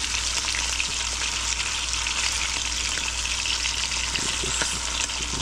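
Super small pieces of saltwater fish frying in a pan, a loud, steady, close sizzle with faint crackles and the occasional stir.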